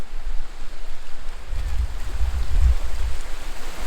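Low, rolling rumble of wake waves from a passing boat washing in at a camp shoreline in Arkansas, swelling through the middle and late part, with steady wind noise over the water and no talk.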